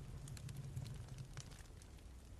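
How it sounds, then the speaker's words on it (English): A bonfire of burning logs crackles steadily in The Walking Dead Season 2 game, faint scattered pops over a low, continuous rumbling roar with no one talking. "We're making a bonfire!"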